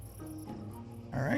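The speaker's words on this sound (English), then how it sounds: "Now we got a cricket. A cricket trying to eat us." A cricket creature in the video game Empyrion Galactic Survival chirps in a steady, pulsing trill, with a louder buzzing burst near the end.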